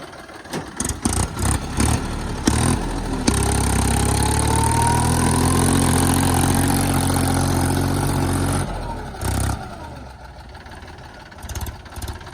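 Tractor engine on a farm track where stones were laid for a stuck tractor, running steadily loud and close for several seconds with rising revs, then dropping away; short intermittent knocks before and after.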